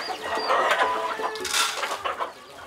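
A fighting rooster at a cockpit clucks and calls in short, harsh bursts at moderate distance.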